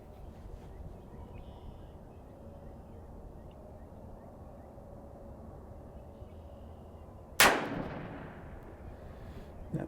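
A single loud Ruger Vaquero revolver shot cracks out near the end at target practice, its report decaying over a steady low background rumble.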